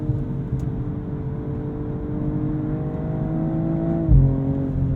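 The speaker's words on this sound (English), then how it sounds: "The gearbox is so quick to shift. The little thump when you upshift as well is satisfying." A 2022 BMW M240i xDrive coupe's engine drones steadily and climbs in pitch under acceleration, then drops sharply with a quick gearbox upshift and a brief thump, heard from inside the cabin.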